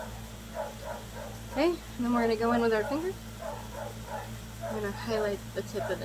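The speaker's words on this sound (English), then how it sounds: "Sorry about the dogs." A dog barks and whines in a few short bursts behind someone talking steadily up close.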